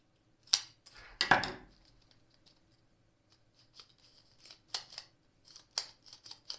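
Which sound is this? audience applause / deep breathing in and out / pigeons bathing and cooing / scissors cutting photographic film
scissors cutting photographic film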